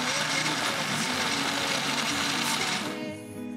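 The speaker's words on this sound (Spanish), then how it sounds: "Acá vamos a licuar un poquitito solamente." A kitchen blender whirs steadily at high speed, mixing mandarin peel and coconut cake batter, loud and close, then the motor winds down near the end.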